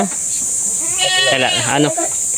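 A goat bleats in a wavering, drawn-out cry on a mountain goat farm, over a steady high-pitched hiss, with some voices murmuring in the background.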